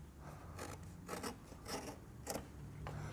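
Hand-cutting material by knife while fitting a Hi-Lite Overland front bumper to a 2024+ Toyota Tacoma: several short rasping cuts in a steady rhythm, close and moderately loud, with no talk.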